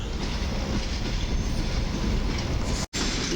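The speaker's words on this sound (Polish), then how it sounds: "po raz kolejny w dniu dzisiejszym trafiam na impulsa 2 szybkiej kolei miejskiej" Impuls 2 commuter train of the SKM rail service passing a platform at Warsaw Zachodnia station, a loud, steady rumble of wheels and rolling stock close by, with a brief dropout near the end.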